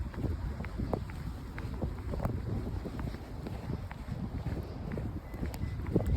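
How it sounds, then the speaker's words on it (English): Strong wind roars in a steady, buffeting gust during a midnight snowstorm at Niagara Falls in Canada, with constant wind noise on the microphone and faint footsteps underneath. "Oh my god, it's windy."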